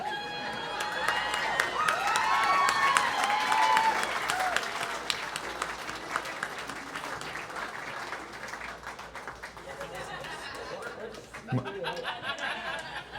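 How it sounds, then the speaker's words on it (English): An audience at a convention costume contest applauds a contestant, with loud, sustained clapping and scattered laughter that swell early and then slowly fade to thinner claps near the end. "Give him another round of applause, folks"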